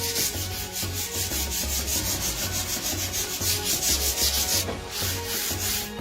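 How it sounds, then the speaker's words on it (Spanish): Wooden furniture sanded by hand to bring out the grain: a steady, close-up rasping rub of sandpaper on wood in repeated back-and-forth strokes, with no voices. "lijar un poco nomás, para ir resaltando la madera"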